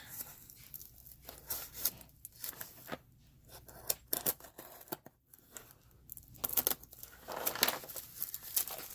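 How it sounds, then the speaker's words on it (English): Plastic packaging torn and pulled open while unboxing a set of 28mm Easy Eight Enterprise American infantry miniatures, heard as bursts of crinkling and ripping with scissor-like snips, close and fairly quiet, with brief pauses between. "Pull the plastic out of here."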